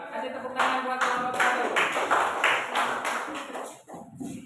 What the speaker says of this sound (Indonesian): Kasih tepuk tangan buat kelompok